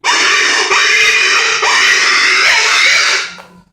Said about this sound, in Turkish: yaralı domuz sesini, feryat sesini hepsini çıkartabildiğiniz bir feryat sesi çıkartan bir düdük